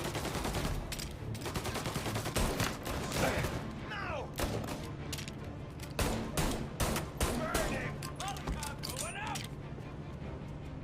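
Bursts of video game gunfire crackle through busy game action, sharp repeated shots scattered across the stretch with speech overlapping much of it.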